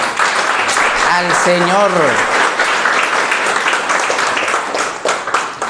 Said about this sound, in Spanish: Y si puedes darle un fuerte aplauso